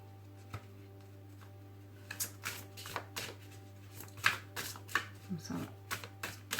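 Oracle cards being shuffled by hand for a card draw, a string of crisp riffling bursts coming close and clear over a steady low electrical hum, with brief speech in between.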